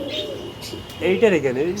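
A dove coos softly in a low, throaty rhythm, close by, with faint background hiss and a brief high chirp.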